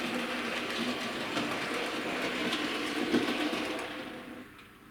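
A model railway locomotive runs along the track in a shunting yard with a continuous whirring motor hum and faint rail clicking, close and steady, fading slightly at the end.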